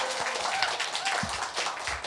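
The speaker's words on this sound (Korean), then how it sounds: "여러분의 힘찬 박수로 출발하겠습니다" Studio audience applauding at the opening of a Korean political talk show, a steady wash of clapping throughout at moderate level, with brief low thumps mixed in.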